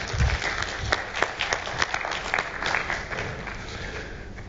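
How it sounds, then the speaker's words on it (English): An audience gives two volunteers a round of applause at a communication workshop, scattered crisp claps that thin out and fade over about four seconds, moderately quiet. "Give them a round of applause, would you?"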